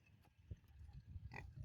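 A farm pig coming over, giving a few short grunts amid low rustling and handling noise, close to the microphone.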